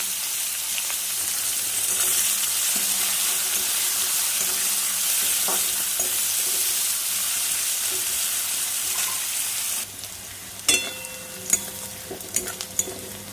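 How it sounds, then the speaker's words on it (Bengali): Chopped onion and cumin seeds fry in hot oil in a pan while making a Bengali katla fish kalia, a steady close sizzle running throughout, then a few sharper stirring clatters near the end. "একটা পেঁয়াজ কুচিয়ে রেখেছিলাম, দিয়ে দিলাম।"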